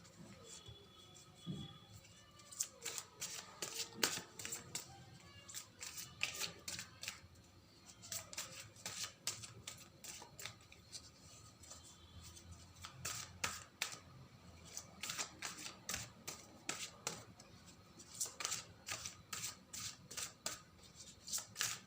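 Tarot cards riffled and shuffled from a deck, a long run of sharp crisp flicks and snaps in quick irregular bursts, close and fairly quiet, with no talking over them.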